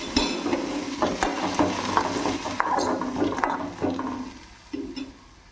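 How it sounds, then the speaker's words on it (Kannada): Peanuts with curry leaves and tomato fry in a pan for masala peanuts: close stirring scrapes rattle over a sizzle that eases off toward the end, with no voices. "ಇದರೊಳಗಡೆ ಶೇಂಗಾದೊಳಗಡೆ ಹಾಕಿಬಿಟ್ಟು ನೀಟಾಗಿ ಫ್ರೈ ಮಾಡಬೇಕು"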